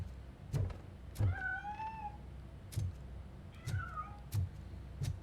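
A cat meows twice with clear rising-falling calls in the video game RoboCop: Rogue City, interspersed with several sharp, close footstep-like thuds against a quiet background.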